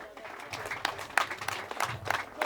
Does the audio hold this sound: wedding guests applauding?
yes